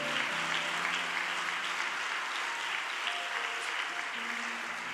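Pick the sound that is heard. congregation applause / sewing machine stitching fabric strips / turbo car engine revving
congregation applause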